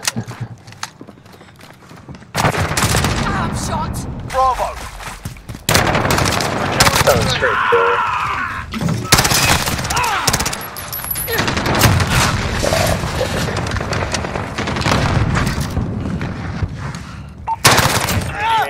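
Rapid automatic rifle fire from an M4 in Modern Warfare multiplayer, loud bursts and single cracks spread across the clip, with game effects and occasional voices underneath.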